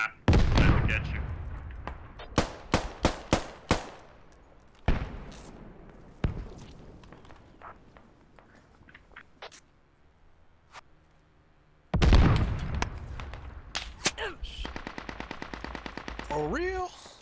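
Gunfire in the Squad military shooter: clusters of sharp, loud shots in rapid bursts, some distant single cracks, and a later dense stretch of rapid automatic fire, with voices speaking over parts of it.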